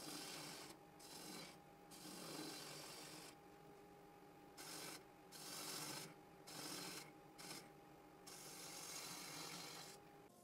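Sandpaper of 150 grit rubs against a turned butternut wood lamp in repeated raspy strokes, a soft, breathy scratching that starts and stops in short passes, faint and close.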